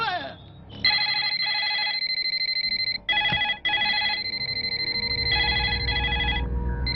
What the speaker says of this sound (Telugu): కోటేశ్వరరావు గారు, లిఫ్ట్ చేయండి.